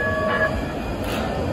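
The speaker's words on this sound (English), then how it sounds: "Here comes the train." A Calgary C-Train light rail train rumbles in nearby with steady wheel roar and a brief tonal squeal or horn-like whine at the start, heard alone without talk.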